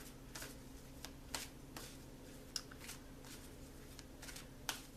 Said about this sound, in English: I'm going to shuffle and we'll see what our first card is